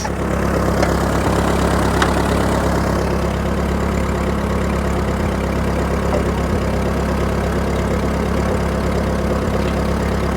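Ford 8N tractor engine idling steadily with the PTO engaged and the hydraulic hitch raising, a close, continuous low rumble with faint periodic knocks throughout, no speech.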